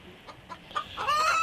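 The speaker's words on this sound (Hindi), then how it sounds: "रामू अपनी मुर्गियों की देखभाल करने के लिए मुर्गियों के फार्म आया" A hen clucks a few soft times, then breaks into louder, drawn-out squawking calls nearby.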